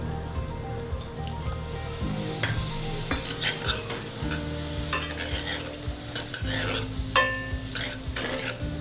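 Spices with coriander powder and a splash of water sautéed in a pan, a busy sizzle with continuous stirring and frequent scraping clinks of the spoon throughout.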